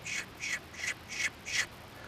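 A turkey tube call gives five short, sharp hen chirps, evenly spaced and close, each a quick bright burst with silence between.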